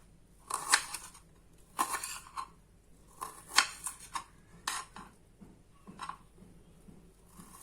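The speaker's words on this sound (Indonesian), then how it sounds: "Kita teruskan proses memotong bawangnya." A knife chops onions on a cutting board for a fish pepes dish, sending crisp, irregular knocks in short bursts, some quick clusters and some single strikes, close but fairly quiet with no talk.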